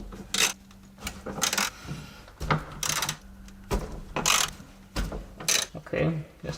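A wrench works 10mm hex bolts loose from the rear electronic module mounting bracket on a Jaguar S-Type bumper, giving close, irregular metallic clicks, ratcheting and clinks in short bursts with quiet gaps between them.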